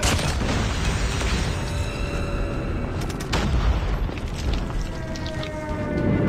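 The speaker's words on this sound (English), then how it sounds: "Friendly airstrike incoming." Airstrike explosions in Call of Duty Mobile, deep booms rumbling under a constant wash of game noise, with a stronger burst around the middle.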